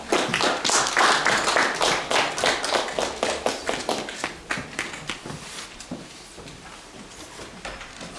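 A church congregation claps to welcome a pastor, starting as dense applause, then thinning into slower, rhythmic individual claps that fade toward the end.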